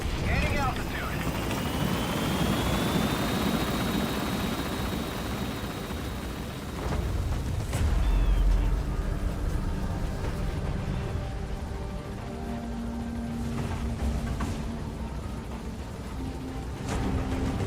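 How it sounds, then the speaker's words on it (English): Extraction helicopter lifting off in the video game Metal Gear Solid V: The Phantom Pain, a loud steady rotor and engine roar gaining altitude with radio-style game voices talking over it. "I'll send the extraction chopper."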